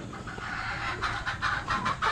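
Hungry Boston Gold gamefowl roosters cluck in a series of short, fairly close calls that grow louder and more frequent toward the end, over a low background hum.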